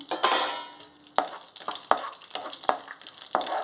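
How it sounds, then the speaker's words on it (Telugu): Cashews, almonds and raisins fry in melted ghee in a pan. A soft sizzle runs throughout, broken by repeated sharp clinks and scrapes of a spoon stirring against the metal pan. It is close and fairly quiet, with no talk. "ఇందులోని డ్రై ఫ్రూట్స్ జీడిపప్పు, బాదాము, కిస్మిస్ వేసేసుకుంటున్నాను."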